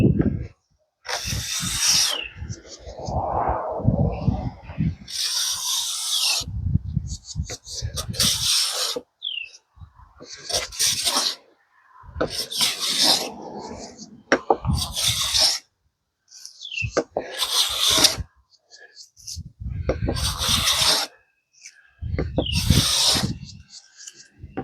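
Hand-smoothing the grain of a black oak slab with a rasp or plane: about seven loud, rough strokes in a steady rhythm, separated by brief pauses, with occasional speech in between.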